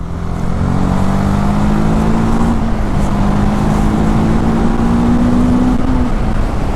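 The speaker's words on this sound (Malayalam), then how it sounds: "ജസ്റ്റ് ഒന്ന് ത്രോട്ടിൽ കൊടുത്തേ വെറുതെ എടുത്തോണ്ട് പോണ്" A TVS Apache RTR 310 motorcycle engine holds a loud, close, steady drone that climbs gently in pitch under throttle, with no voices.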